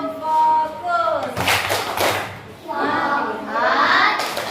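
A classroom of children performs a focus clap routine, with bursts of loud group clapping and thumping mixed with children's voices and chanting.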